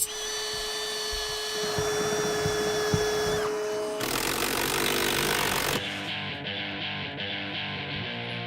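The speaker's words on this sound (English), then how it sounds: "Let's drill some holes." A power drill boring holes in a truck build, whining in sustained bursts with a high steady tone, a sharp pitch change midway, then a lower rattling run at the end.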